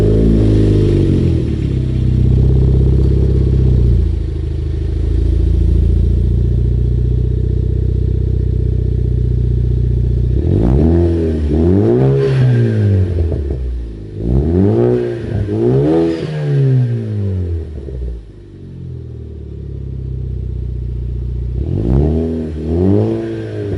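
A Ford Focus ST fitted with an AWE Track catback exhaust revs hard several times, loud and close, each blip rising and falling between stretches of steady idle, with no talking.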